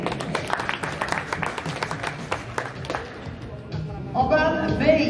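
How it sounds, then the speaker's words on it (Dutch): Applause at a veterans' shooting championship final in the Netherlands, a scattered run of hand claps from a small crowd that thins out before a voice takes over at the end. "Graag een applaus voor Gerry"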